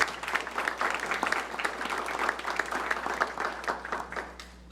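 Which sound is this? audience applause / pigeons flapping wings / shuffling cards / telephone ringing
audience applause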